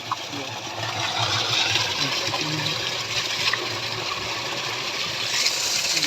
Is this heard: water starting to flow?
yes